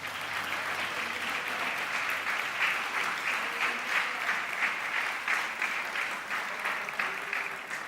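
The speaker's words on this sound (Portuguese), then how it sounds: "Dê uma salva de palmas ao Senhor." Sustained applause from a church congregation fills the space during a worship service, a dense, continuous wash of many hands clapping at a steady level with no voices rising above it.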